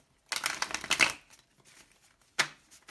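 Tarot cards shuffled by hand at close range, a riffling burst lasting under a second followed by soft sliding and a second brief riffle, quiet and with no talking.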